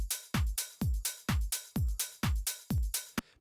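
A punchy drum loop of layered kick and percussion hits repeats in a steady rhythm, about eight strong, booming strikes with bright tops and no voices.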